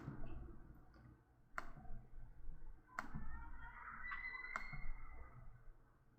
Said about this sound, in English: Click refresh.